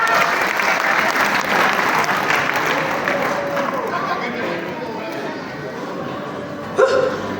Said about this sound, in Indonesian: Kita sambut dengan tepuk tangan yang meriah Bapak Benny Gultam.